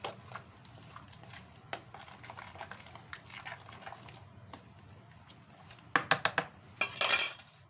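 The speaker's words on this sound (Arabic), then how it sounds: "هتجيبي معلقه تقلبي كده" A spoon stirring tomatoes and tomato paste in a pan, soft scraping and clinking of metal against cookware, growing into several sharper clatters near the end, with faint background sounds.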